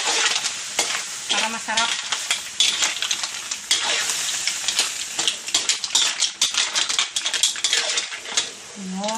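Butter sizzling loudly in a hot pan with squid being stirred, a dense continuous fry with scraping utensil strokes and clinks, while a person speaks briefly.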